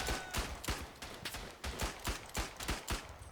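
Rifle and gunfire volleys in the World War I shooter game Verdun, a rapid series of about a dozen loud, close cracking shots in an uneven rhythm over a noisy battlefield background.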